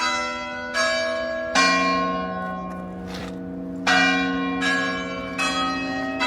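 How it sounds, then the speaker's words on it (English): Large church bells in Barcelos, Portugal ring in a series of resonant strikes, each tolling out and overlapping the last, moderately distant and unaccompanied by voices. "We got the bells going here."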